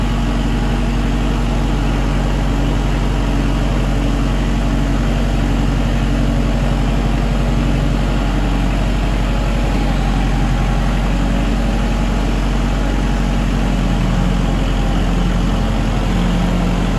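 A Kubota tractor engine idles on a cold winter day, a steady, loud, unbroken low drone that holds evenly throughout with no talk over it.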